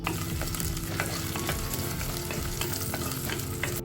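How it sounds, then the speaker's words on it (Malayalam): Dried and green chillies, shallots and curry leaves sizzle steadily in hot oil in a clay pot, a dense continuous frying crackle with faint stirring scrapes, close and unbroken. "3 വറ്റൽമുളകും കുറച്ച് കൊച്ചുള്ളി കട്ട് ചെയ്തതും 3 പച്ചമുളക് കട്ട് ചെയ്തതും കുറച്ച് കറിവേപ്പിലയും കൂടെ ചേർത്ത് നന്നായിട്ടൊന്ന് വഴറ്റിയെടുക്കാം"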